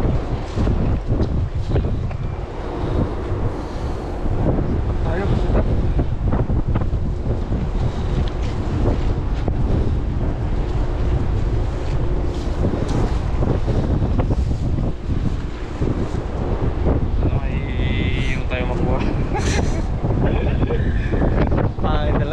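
Strong wind buffets the microphone continuously on a fishing boat at sea, with choppy waves and water rushing around the hull; the roar stays loud and unbroken, and faint voices surface briefly near the end.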